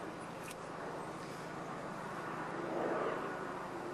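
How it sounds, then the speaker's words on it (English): A truck passing at a distance, a faint, low, continuous rumble that swells briefly near the end before easing off, with no talk. "We will let this truck go by"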